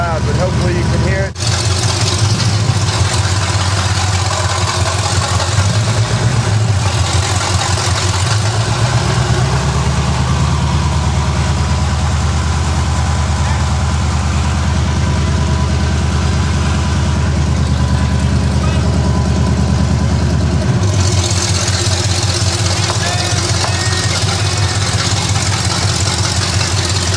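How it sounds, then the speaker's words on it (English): A 1979 Chevy shortwide pickup truck runs close by with a loud, steady, low idling rumble that continues throughout, while voices talk over the engine. "I don't know if you can hear the audio because the truck's really loud"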